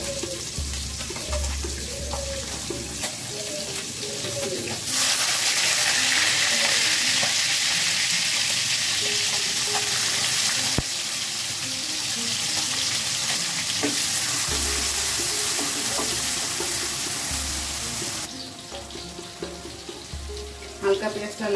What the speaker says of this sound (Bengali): হালকা পেঁয়াজটা লাল হয়ে আসছে